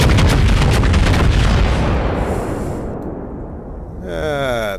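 Battleship main guns firing in World of Warships, a New Mexico battleship: a heavy, loud booming salvo that rumbles and slowly decays over several seconds, followed by a rising warbling tone near the end.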